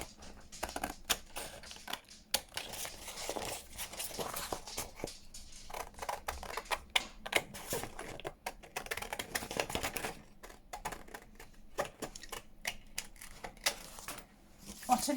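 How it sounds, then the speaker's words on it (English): Scissors cut paper for a file folder journal in a dense run of crisp snipping and rustling clicks, close and continuous throughout. "Then I'm just going to go around and cut it"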